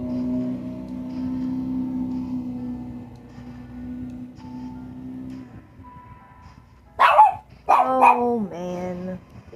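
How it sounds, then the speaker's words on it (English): Outdoors, a dog gives a few loud, sharp barks in quick succession near the end, after a steady low mechanical drone fades away. "I wonder if it can pick up my dog barking as well"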